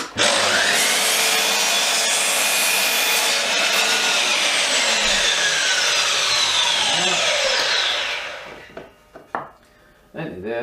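A handsaw cuts through a timber decking board, trimming off an offcut for a trough planter, with a steady loud rasping stroke that runs for about eight seconds before stopping, followed by a few scattered knocks and handling sounds.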